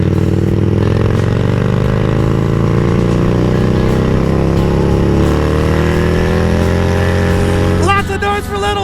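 A Harley-Davidson Street Glide motorcycle engine roars close up while riding, a loud rumbling drone whose pitch slowly climbs as it accelerates, ending in a brief clattering burst.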